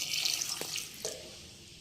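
Water goes into a pot of chopped tomato and tamarind on a stove as a short, close, steady hiss and splash lasting about a second, then fading.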